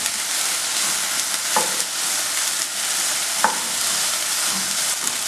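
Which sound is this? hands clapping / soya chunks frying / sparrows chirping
soya chunks frying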